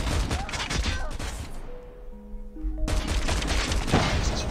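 Explosion and rapid gunfire from a COD Mobile multiplayer match, loud bursts of shots and blasts dense at the start, a brief lull with tonal game sounds, then heavy firing resuming.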